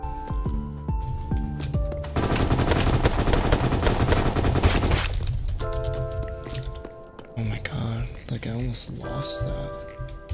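AK rifle fire in the Roblox game Apocalypse Rising 2, a dense sustained burst of rapid shots lasting a few seconds amid game sounds, with a player talking over parts of it.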